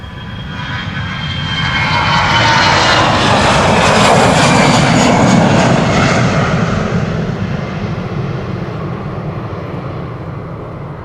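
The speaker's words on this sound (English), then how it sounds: "Delta Airlines flight 237 to Tampa, Florida. That's an A330-300." A Delta Air Lines Airbus A330-300 jet roars past at Amsterdam Schiphol's Polderbaan runway, a loud broadband engine rush swelling to a peak midway and slowly fading, with no voices.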